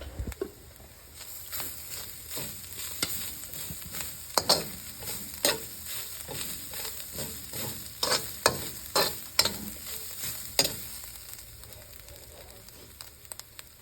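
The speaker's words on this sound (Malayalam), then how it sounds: "അത് കുറച്ച് മൂക്കുന്നിടം വരെ നമുക്ക് ഇളക്കി കൊടുക്കാം" Utensil scraping and stirring in a pan over a steady sizzle of spices frying on low heat before spinach is added for thoran, with irregular sharp clacks and scrapes throughout; no talking.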